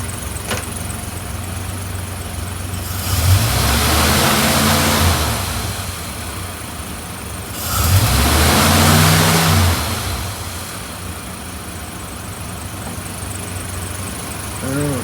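A 1953 Dodge B4B truck engine idles steadily close by and is revved twice, each rise swelling into a louder roar before settling back to idle.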